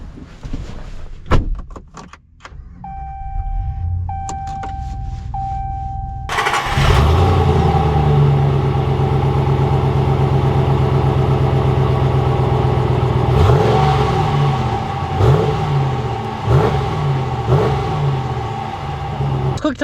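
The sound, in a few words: Ram 1500 Warlock truck engine starting and driving off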